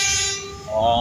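A loud, close train horn blares briefly, its droning tone dropping in pitch halfway through.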